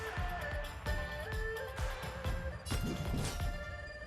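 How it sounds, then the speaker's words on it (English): Rock-shattering effects from the Honkai: Star Rail video game, with a run of sharp crashes and crumbling impacts at a steady rhythm, growing denser and heavier toward the end, loud and close over a ringing background. "Rock shattering"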